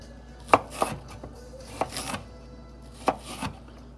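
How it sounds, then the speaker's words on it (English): Knife cross-chopping meatball ingredients on a cutting board: several sharp, distinct chops in irregular pairs, close and fairly loud, with quiet gaps between them and no talk. "Do the old cross chop."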